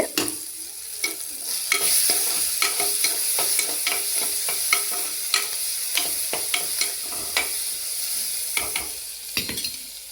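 Onion and tomato sauté in a pan with a soft, continuous sizzle. Frequent sharp taps and scrapes of a ladle stirring against the pan come through close and clear.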